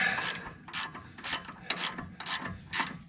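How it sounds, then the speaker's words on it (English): A hand ratchet cranks a 15 mm sway bar link bolt loose on a Dodge Ram 2500/3500 during a suspension lift, giving six quick bursts of rapid clicking with short gaps between them, close and clear, with no talking. "next we're gonna take our sway bar link out and bolt it from here"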